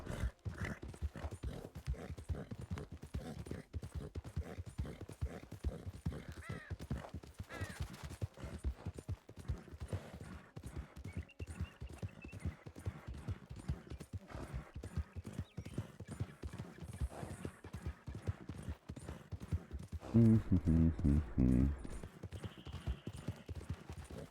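Horse hooves clip-clop in a steady, rhythmic gait in the Hickem Horses video game, a long unbroken run of near, even footfalls with a brief whinny toward the end.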